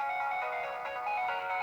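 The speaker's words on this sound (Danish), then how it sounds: "Tag så den telefon for helvede. Det er vigtigt. Den har ringet 5 gange nu." A telephone rings steadily and fairly loud through the whole short stretch, its electronic tone continuous with no pauses and no voices over it.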